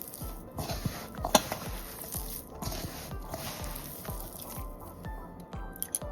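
Vegetable adai batter being kneaded by hand in a bowl as water is added bit by bit, with repeated wet squishing and slapping sounds in a steady rhythm, close and moderately loud.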